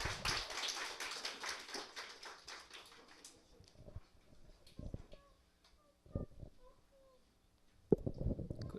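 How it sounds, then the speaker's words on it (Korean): A church congregation gives a short burst of applause to welcome a speaker, fairly loud at first and then thinning to scattered claps and a few isolated taps, with quiet gaps between them. "박수로 환영해 주시기 바랍니다."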